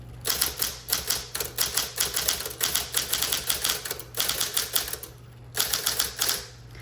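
A Smith Corona Electra 12 electric typewriter types in red, giving rapid, close, crisp key strikes in bursts with brief pauses, over a steady motor hum.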